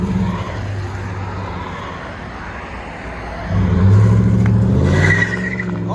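2018 Chevy Silverado Z71 with a 5.3L V8, Flowmaster 40 Series exhaust, resonator delete and single 4-inch tip, a deep steady exhaust rumble that swells louder in a rev midway, then settles back down.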